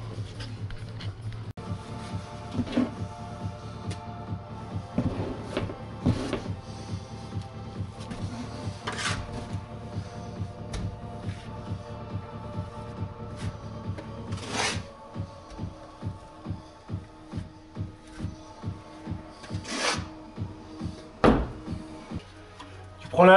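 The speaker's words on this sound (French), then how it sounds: "Deuxième couche de plâtre qu'on applique sur le dégrossi" A steel trowel spreads a second coat of plaster over a rough base coat on a staircase slab for a dry toilet, making steady repeated scraping strokes close by, with a voice talking over them.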